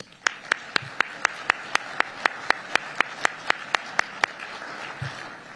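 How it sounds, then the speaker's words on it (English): A quick, even run of sharp hand claps, about four per second, from an audience applauding musicians at a city State of the City event, steady and moderately close over a faint room hum. "Let's give them a round of applause."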